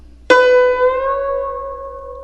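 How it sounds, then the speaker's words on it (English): A single plucked guzheng string rings out with its pitch bent upward by pressing, sustaining and slowly decaying, alone and close. "You can bend pitches up."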